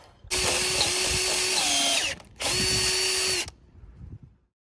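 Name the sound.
power drill drilling a hole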